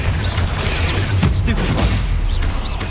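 Confringo blasting spell explosions in Hogwarts Legacy, loud dense booming bursts and crashing impacts rolling together continuously, with faint voices mixed in.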